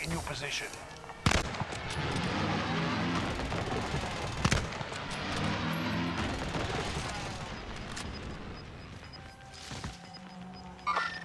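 Gunfire in the battle-royale game Warzone on Caldera: repeated long-range shots ring out as sharp cracks at irregular intervals over a dense, steady bed of game noise, with voices talking throughout.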